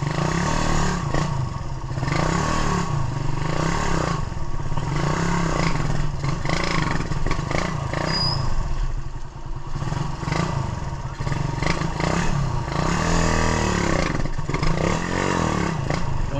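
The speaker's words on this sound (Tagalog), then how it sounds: "Medyo pumapalya pa, kaya kailangan pang kunting tono pa." Suzuki Raider 150 motorcycle engine idling and misfiring after port work, close by: a loud, steady rough putter with uneven stumbles and irregular pulsing throughout.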